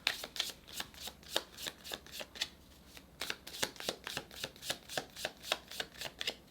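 Playing cards are shuffled repeatedly, a quick run of crisp riffling bursts in a steady rhythm, close and fairly quiet with no talking.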